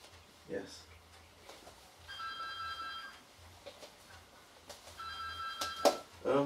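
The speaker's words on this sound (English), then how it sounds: "Sorry, my front door is ringing." Front doorbell at a home ringing in two bursts of steady electronic tone, heard indoors over faint background hum with brief talk around it.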